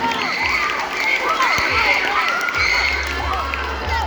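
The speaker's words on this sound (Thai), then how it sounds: "ปรบมือให้กับหมายเลขหนึ่งนะครับ" An audience at a school Sunthorn Phu Day costume show cheers and claps, with children shouting excitedly in a lively, continuous crowd roar.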